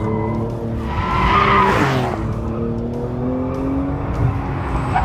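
Porsche 911 GTS 2022 with 480 hp braking hard and cornering on a race circuit, engine roaring steadily close up while the tires squeal and skid through the turn.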